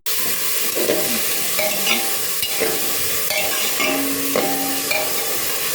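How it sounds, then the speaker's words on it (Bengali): Vegetable curry fries in hot oil seasoned with black cumin, sizzling steadily and close while being stirred with repeated scraping strokes, with no talk. "একটু তেল গরম বসিয়ে দিয়েছি একটু কালো জিরে ফোড়ন দিয়ে তরকারিটা করে দেবো"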